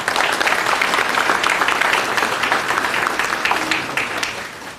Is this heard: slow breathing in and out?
no